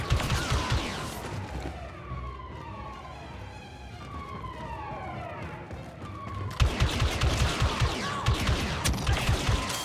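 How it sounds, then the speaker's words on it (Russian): Blaster gunfire in the Star Wars Battlefront II campaign crackles in rapid bursts amid swooping sci-fi effects, growing denser and louder toward the end. "Ого, вот это выстрел."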